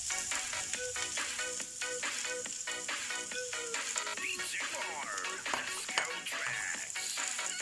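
Garlic and onion sizzle and crackle in a frying pan while they cook for a mushroom and cheese omelette. The frying hiss runs steadily throughout and sits under background music.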